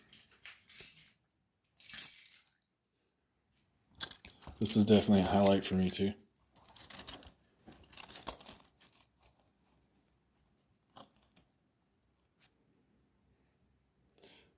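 Keys jangle in short metallic bursts scattered through the stretch, close and fairly loud, with someone talking in between.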